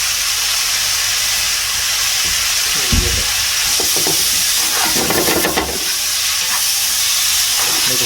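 Pineapple curry with salt frying in a pan and being stirred, a continuous close sizzle and hiss with a few clinks and scrapes from the spoon.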